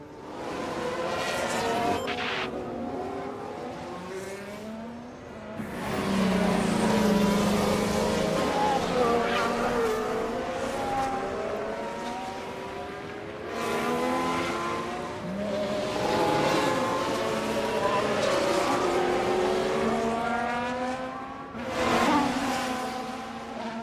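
Race car engines in the F1 Manager 24 video game at the Singapore circuit, cars whining past in repeated rising and falling sweeps at moderate loudness, with game audio continuing throughout.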